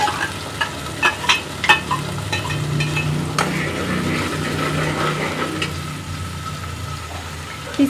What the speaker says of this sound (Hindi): अच्छे से फ्राई कर लेंगे, अच्छे से भून लेंगे।